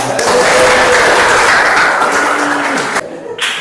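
A classroom of students at MA Sabilil Muttaqien bursts into dense applause during a micro-teaching lesson, sustained for about three seconds before it breaks off and a few scattered claps trail away.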